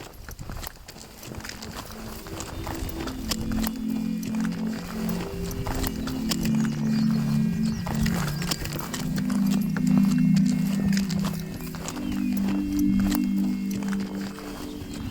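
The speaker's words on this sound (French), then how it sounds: "J'essaye de convaincre mon âne préféré d'avancer." A donkey's hooves clip-clop steadily as it walks outdoors, a continuous uneven rhythm of hoof strikes, fairly close, with low rumbling ambience and no clear talk.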